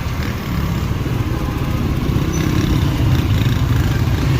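Steady, loud traffic din on a crowded shopping street near a bridge in Dadyal, Azad Kashmir, with the continuous rumble of many cars and motorcycles close by, engines droning without a break.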